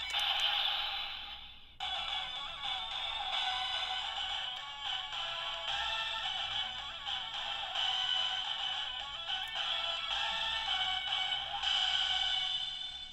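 A long, sustained transformation sound effect from a DX Ryutsueder Kyuranger toy, with bright high tones and shimmering layers, steady and loud throughout, briefly dipping near the start.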